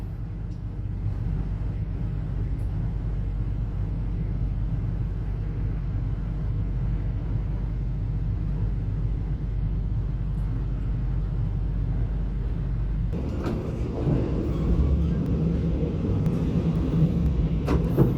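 An Indonesian Mataram economy-class train runs along as it passes the oncoming Lodaya train from Bandung bound for Solo Balapan, giving a steady loud rumble that turns rougher and brighter as the other train goes by.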